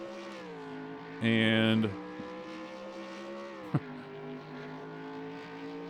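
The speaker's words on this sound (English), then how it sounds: "you can probably hear like a throaty version of the engines" Race car engines in the PC game NASCAR Racing 2 drone steadily with a throaty, harmonic tone, rising and shifting in pitch, with a brief loud burst and a short sharp click midway; a voice briefly speaks.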